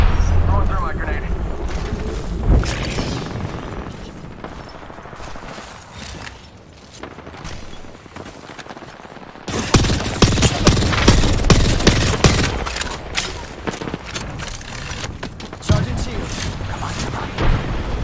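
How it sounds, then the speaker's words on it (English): Grenade blasts and rapid gunfire in a shooter video game: loud booming explosions and sustained bursts of automatic fire, with a sharp surge of heavy blasts midway and more bursts near the end. "Throwing grenades."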